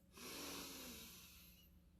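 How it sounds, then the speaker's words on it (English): One slow, soft inhale drawn close to the ear, swelling quickly then tapering off quietly. "Breathing in together"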